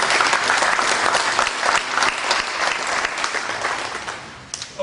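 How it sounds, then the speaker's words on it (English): An audience at a high school coaching clinic claps for the demonstrating players, a dense burst of applause from a crowd in an indoor setting that holds steady and then tapers off near the end. "Could you guys give these guys a round of applause?"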